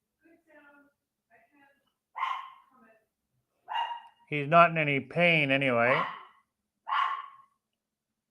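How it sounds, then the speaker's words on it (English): A dog barks a few times in short, separate bursts at moderate distance, with someone speaking between and around the barks. "As you can hear him barking in the background there,"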